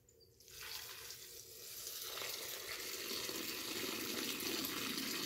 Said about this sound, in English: Get the cold water to rinse.